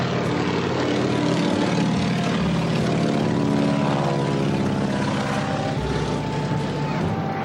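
Curtiss Jenny vintage biplane in flight, its propeller engine droning loud and steady throughout with a continuous low roar and harmonic hum, heard from inside the aircraft.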